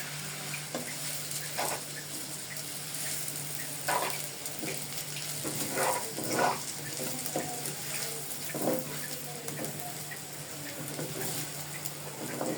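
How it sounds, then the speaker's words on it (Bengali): Watermelon rind curry with turmeric powder being stirred in a pan, soft scraping strokes at irregular intervals over a steady low sizzle and background hum, no voices. "এখন আমি সুন্দর করে নেড়ে দিব চারপাশে সমানভাবে"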